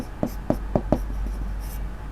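Four evenly spaced marker or chalk strokes tap and scrape on a board during a maths class, quick and crisp, followed by a few softer strokes against a faint background hum.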